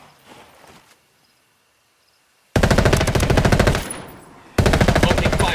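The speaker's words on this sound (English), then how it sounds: "Opening fire on these fuckers." Loud automatic gunfire rattles in rapid sustained bursts in the video game Ghost Recon Wildlands, after a quiet opening, with two long close volleys separated by a short pause.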